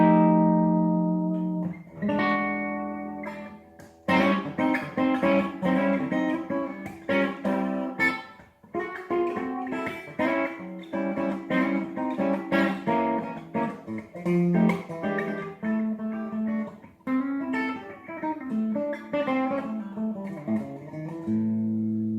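An Epiphone Bonamassa 355 semi-hollow electric guitar played clean through its bridge pickup, a few opening notes then a stretch of strummed chords and picked melodic lines, close and clear with no talking.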